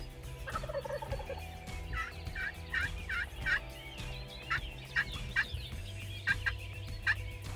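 A wild turkey gobbles in a repeated series of rattling calls, moderately distant over a low background rumble, with no voices.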